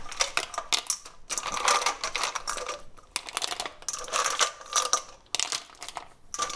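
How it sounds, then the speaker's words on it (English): Mussels cooking in a coconut curry in a pan, crackling and popping steadily with many small, irregular ticks and clicks close up, with no talking. "That means they're starting to open up and they're starting to pop."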